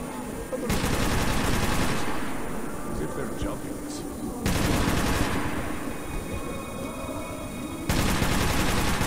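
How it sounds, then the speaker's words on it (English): Video-game gunfire in Metro 2033 Redux: three loud, rapid automatic bursts separated by a few seconds, with quieter game ambience and some voices between them. "You just keep shooting your gun, comrade."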